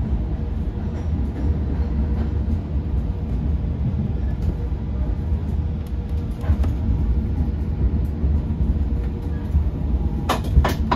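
Long Island Rail Road commuter train 2791 riding from Patchogue toward Penn Station, dual-mode diesel and third-rail electric, heard from inside: steady low rumble and wheel roar throughout, with a few brief brighter rattles near the end.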